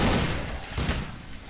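A rapid burst of gunfire from the video game Blue Velvet, dense overlapping shots with thuds, loud and close, lasting about a second and a half with no talk.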